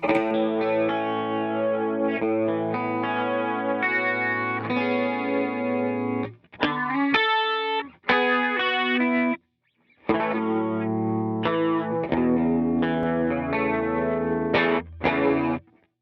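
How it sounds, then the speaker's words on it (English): An electric guitar plays chords and short phrases through a stereo chorus effect into an amp, shimmering and wavering, pausing briefly between passages. "here's a stereo chorus going into the amp"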